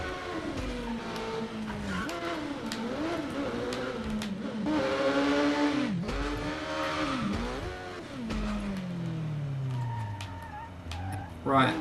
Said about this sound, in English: you'll be able to see the dude revving the engine.